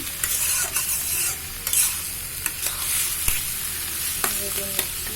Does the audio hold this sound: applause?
no